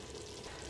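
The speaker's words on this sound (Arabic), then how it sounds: "نقلي مليح الخضار تاعي" Vegetables sizzle steadily in hot oil as they fry for Kabyle-style berkoukes, a close, continuous crackling hiss with no voices.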